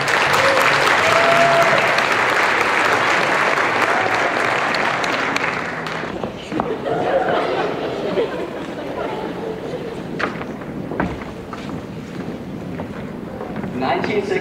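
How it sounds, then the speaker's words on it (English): Sustained audience applause at a prom showcase fills the first six seconds, loud and dense, then thins into scattered claps and murmuring voices. "How about a round of applause for our models"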